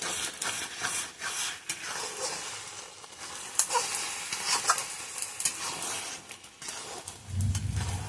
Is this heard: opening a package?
no